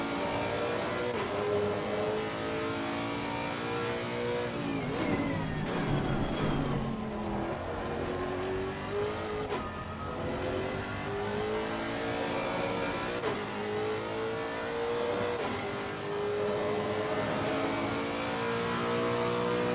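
Simulated race car lapping Silverstone in Assetto Corsa Competizione, a steady loud engine drone with rising and falling revs through gear changes and braking, continuous for the whole stretch with no talk.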